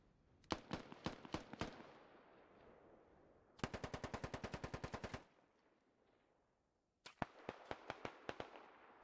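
Automatic gunfire from a military video game, Squad Ops, comes in three sharp bursts: a short ragged string, a long fast rattling volley, then another uneven burst. Each burst is loud and close, with quiet gaps between them.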